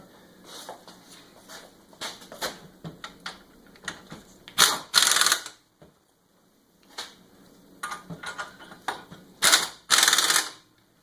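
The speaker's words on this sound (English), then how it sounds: "Once we got those started by hand, we'll hit them with the impact gun." An impact gun tightening lug nuts during a CV axle replacement on a Mitsubishi Outlander, giving short mechanical clicks and then two loud rattling bursts of hammering, close by, with no one speaking.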